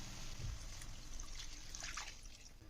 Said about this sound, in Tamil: இப்போ நம்ம ஒரு டம்ளர் தண்ணி ஊற்றிக்கலாம்